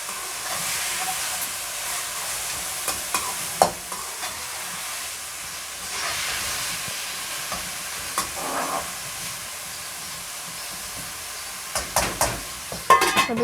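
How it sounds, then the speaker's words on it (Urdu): Capsicum and green onion stirred in a hot pan for desi-style macaroni, with a steady sizzle and hiss under occasional scraping strokes and a few louder clanks near the end. "اب اس کو مکس کر لیں گے۔"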